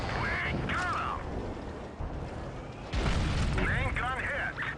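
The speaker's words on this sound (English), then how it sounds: "We took a big HE shot there." A high-explosive shell strikes a tank in World of Tanks Blitz, giving a loud, heavy boom with a deep rumbling impact, followed by crackling aftershock and a second burst, while someone talks over it.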